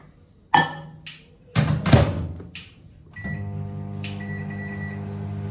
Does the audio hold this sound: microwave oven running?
yes